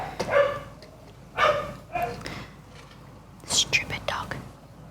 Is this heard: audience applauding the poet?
no